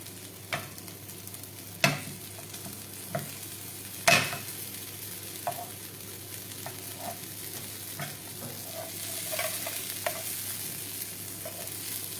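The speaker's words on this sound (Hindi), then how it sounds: "the classical way of making kebab are shallow frying them" Pea and fennel shami kebabs shallow frying in ghee, a soft steady sizzle broken by a few sharp spatula clicks and taps against the pan, close and without voices.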